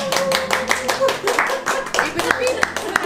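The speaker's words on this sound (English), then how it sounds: "I wish people applaud for me when I eat like that." A small family group claps repeatedly for a one-year-old boy eating at his first birthday, a close burst of uneven hand claps mixed with cheerful talking and voices throughout.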